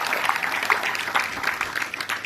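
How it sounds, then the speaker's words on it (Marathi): A village audience applauding its health workers, a brief burst of many hands clapping, moderately loud and crowd-like. "त्यांच्यासाठी जोरदार टाळ्या द्यायला हरकत नाही."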